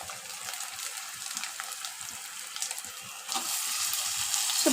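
Ginger-garlic paste frying in a pan for a chicken curry, a steady broadband sizzle with faint stirring clicks that swells louder near the end, with no voices.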